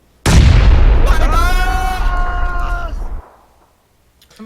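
A grenade explodes in the PUBG battle royale game with a sudden loud, close boom. A roaring rumble with a ringing tone holds for about three seconds, then cuts off into near silence.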